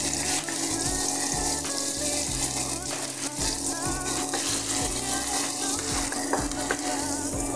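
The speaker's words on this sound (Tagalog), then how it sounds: "Lagay natin ang ating onion. Igisa lang natin hanggang mag-translucent." Chopped onion sautéing in a little oil in a frying pan, a steady close sizzle with stirring and scraping clatter throughout, a faint voice underneath.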